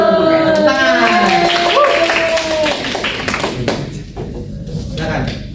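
Students in a twelfth-grade classroom break into applause after an answer, with a burst of brisk, close hand claps that follows a spoken exchange and gradually thins out.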